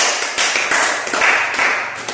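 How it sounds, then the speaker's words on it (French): Seminar audience clapping together on a positive-thinking theme, a short, loud, dense burst of many hands applauding at once. "Applaudissez pour vous."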